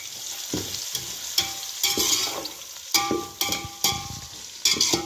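Thinly sliced onions sauté in a hot pan, sizzling under repeated bursts of spoon stirring and scraping in an uneven rhythm, close and fairly loud, with no talk.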